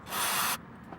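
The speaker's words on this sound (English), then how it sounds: "Go ahead and spray this throttle body cleaner inside." Throttle body cleaner sprayed from an aerosol can into the throttle body of a Nissan 240SX: one loud, steady hissing burst of about half a second, cut off sharply, then quiet workshop room tone.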